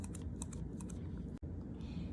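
Scissors snip through loops of yarn wrapped for a handmade pom-pom, giving a run of soft, close, rapid clicks and cuts with a brief pause partway through.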